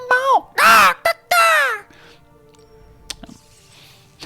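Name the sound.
bird cawing in video game Magic Arena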